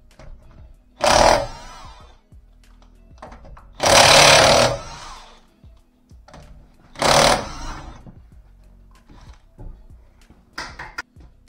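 Three loud bursts of a power tool unscrewing bolts on a Renault during brake shoe replacement, each about a second long, separated by quieter workshop noise and small clicks.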